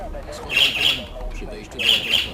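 Parrot in the Stalker video game (Call of Pripyat) letting out two loud, harsh squawks about a second apart over a low ambient hum.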